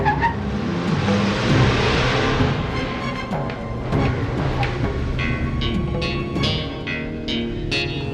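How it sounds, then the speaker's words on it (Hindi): A car drives past with a steady, loud road and engine rumble that lasts throughout, while a few sharp clicks and knocks come through near the end. "विक्रम, मैं तुम्हारे पीछे हूँ, गाड़ी रोको"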